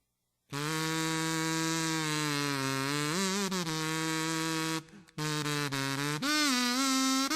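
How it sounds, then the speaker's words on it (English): A kazoo buzzes loudly as someone hums into it, holding nasal, raspy tones with small pitch slides, broken by one brief pause. "You just kind of hum into one, and it sounds like this."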